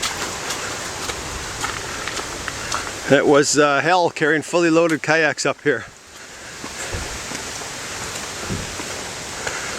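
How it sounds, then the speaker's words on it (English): Steady rain falls on a wooded portage trail in Quetico Park, a continuous soft hiss throughout, with someone speaking briefly over it midway. "And in the pouring rain, it's really slick."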